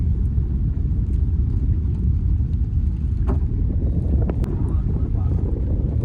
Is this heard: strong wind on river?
yes